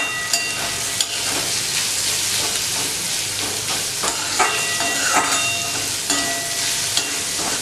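Chopped onion frying in already oily pan for veg keema, a loud, steady close-up sizzle and crackle with occasional spoon scrapes and knocks as the pieces are stirred, no one speaking.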